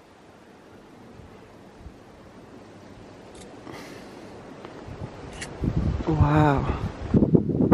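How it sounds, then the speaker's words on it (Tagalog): Strong wind outdoors in cold weather in Germany, a broad rushing roar on the microphone that swells toward the end, with a person briefly exclaiming and voices over the gusts. "Mahangin."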